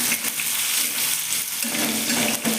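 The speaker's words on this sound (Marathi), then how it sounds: "आता त्यामध्ये आपण थोडा कांदा टाकलाय." Chopped onion frying in hot oil in a pan while cooking Maharashtrian baingan bharta, giving a loud, continuous crackling sizzle with occasional stirring scrapes close by.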